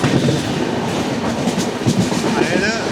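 Hubballi-Hyderabad Express rolling along a bypass line, a steady, loud rumble of wheels on rail with faint clickety-clack and carriage rattle throughout, with no pauses.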